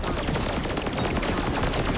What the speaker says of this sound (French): Une mitraillette à tête chercheuse.